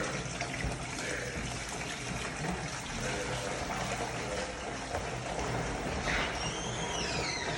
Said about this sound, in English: Pour it through the filter.